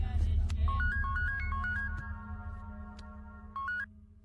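A phone's electronic ringtone trills in short stepped bursts over a low hum, followed by a second brief burst near the end, fairly close and moderately loud.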